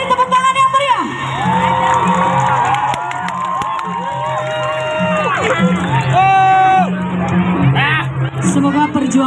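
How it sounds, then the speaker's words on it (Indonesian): A lively crowd cheers and whoops loudly at an Ogoh-Ogoh festival in Seputih Mataram, Indonesia, with children shouting and a busy babble of voices over steady background music. "Kita beri tepuk tangan yang meriah"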